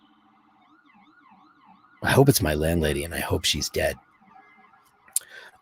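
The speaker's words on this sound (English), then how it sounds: "there's a big siren going on outside." An emergency vehicle siren outside wails with a rising and falling pitch, faint and distant. Someone talks loudly over it for a couple of seconds, and the siren continues softly afterward.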